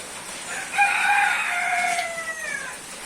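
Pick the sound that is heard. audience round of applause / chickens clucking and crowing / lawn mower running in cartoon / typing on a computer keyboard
chickens clucking and crowing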